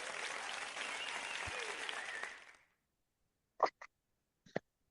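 A canned applause track plays as a show intro, a steady wash of clapping that fades out after a couple of seconds, followed by silence and a few brief isolated sounds.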